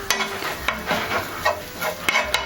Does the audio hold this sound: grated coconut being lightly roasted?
yes